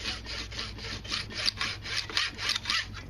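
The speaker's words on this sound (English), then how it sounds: "I'm going to come straight on down and cut it all the way to the metal." A hand saw cuts through a piece of wood clamped in a metal vise, about a dozen even back-and-forth strokes in a steady rhythm, close and clear with no talking.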